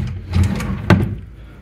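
A drawer in a holiday apartment in Benidorm slides open or shut, giving a single muffled wooden bump with a sharper knock near the end, heard close up and alone.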